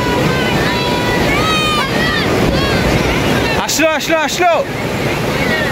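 Ocean surf washes onto the beach at Cox's Bazar at night, a loud continuous roar of waves with wind buffeting the microphone and people talking and calling nearby.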